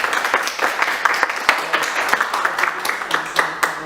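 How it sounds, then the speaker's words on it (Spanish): A conference audience at a university applauds the doctor, a moderate round of clapping in which individual sharp claps stand out in an uneven patter, with no voices over it. "Le compartimos un fuerte aplauso al doctor."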